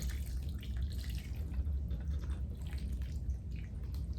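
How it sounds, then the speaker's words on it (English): Whisked liquid topping is poured over a blueberry cobbler, giving a steady, soft, continuous trickling and splashing close up, with no talking. "we're just gonna pour this right on top of it"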